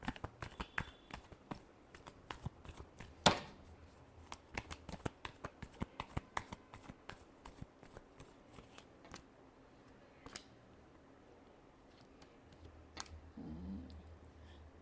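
Tarot cards are shuffled by hand during a reading, giving a quiet, irregular stream of soft riffles, taps and flicks, with one sharper snap early on and a low rustle near the end.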